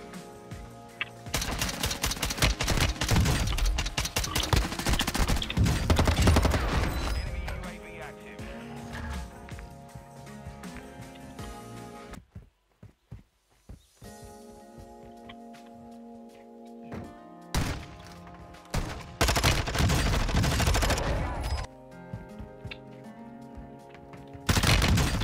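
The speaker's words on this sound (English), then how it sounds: "I always hearing the shooting" Rapid bursts of automatic gunfire in Call of Duty MW2, loud and dense, broken by short pauses and layered over game music and effects.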